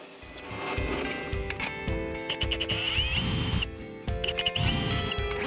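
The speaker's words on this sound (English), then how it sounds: "I'm drilling 2 half-inch diameter counterbores in these pieces, which will get plugged later." A power drill whirs steadily into wood pieces for a stair handrail, boring half-inch counterbores, with uneven bursts of grinding and chatter as the bit bites, loud and close, no talk.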